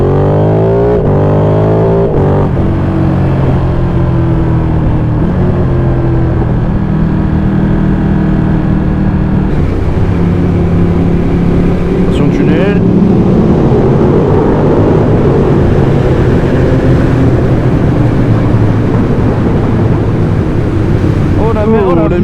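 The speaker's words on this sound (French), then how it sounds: "on a un moteur sympathique" Roadster engine running on the road, a loud continuous rumble with shifting pitch as it revs, mixed with heavy wind buffeting throughout.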